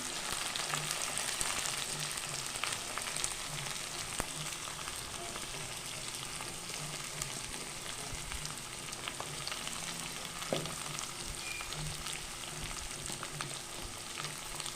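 Turmeric powder frying in a pan gives a steady, close sizzle that crackles without pause for the whole stretch, with no voices.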